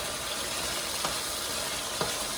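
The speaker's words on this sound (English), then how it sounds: "kind of stir frying here in a little bit of olive oil" Continuous sizzling and crackling of cut chicken thighs stir-frying in olive oil, with a couple of faint clicks, steady and close.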